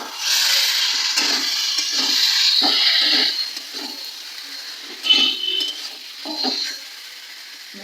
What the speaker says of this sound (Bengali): এই যে মাংস মাংস দিয়ে নেবো একটু নাড়াচাড়া করে নেবো